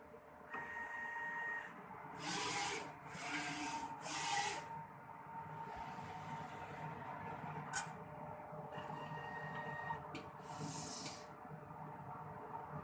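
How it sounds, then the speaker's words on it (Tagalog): An inkjet printer runs a nozzle test after head cleaning, with repeated whirring, rasping carriage passes in bursts separated by quieter mechanical pauses, close and fairly faint, alone with no talk. "So, after natin mag-cleaning, so mag-nozzle test po tayo."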